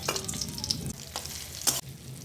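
Chopped tomatoes hit a pan of frying ground mustard and green chilli paste, giving a sizzling hiss with stirring scrapes and one sharp burst of spatter, close and steady.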